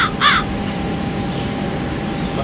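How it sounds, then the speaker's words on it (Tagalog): Two quick, harsh caws from a crow ring out at the start, followed by steady outdoor background noise. "Pansin ko lang guys, marami ditong uwak."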